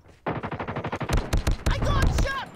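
Rapid automatic gunfire from the mobile shooter game Call of Duty Mobile, played in a Domination clan-war match: loud, evenly spaced bursts of shots, with brief in-game voice callouts near the end.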